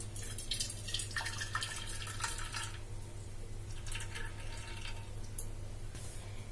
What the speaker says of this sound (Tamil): ஸ்டவ் ஆஃப் பண்ணிட்டு இந்த வெல்லத்தை நம்ம வடிகட்டி எடுத்துக்கலாம்